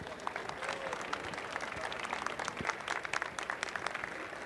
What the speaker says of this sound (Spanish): Les pido un muy fuerte aplauso para recibirlo